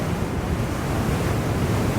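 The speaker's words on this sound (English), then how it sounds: "It feels like I'm into the wind this way." Steady, loud wind rush buffets the microphone of a rider cruising at about 40 on an Extreme Bull GT Pro Plus electric unicycle, heading into the wind, no talking.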